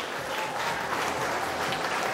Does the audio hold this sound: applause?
yes